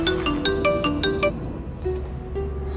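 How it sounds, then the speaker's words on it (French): A mobile phone rings with a bright melodic ringtone of quick stepped notes that then trails off, heard over a low room hum. "Ah, son téléphone sonne."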